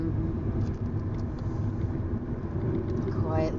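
An electric car rolls along the road with a steady low rumble of tyres and wind that stays constant throughout, heard from inside the cabin, while a voice talks over it.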